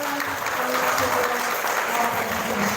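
A senior high school debate audience claps for a speaker, a continuous wash of applause with faint voices or tones running underneath.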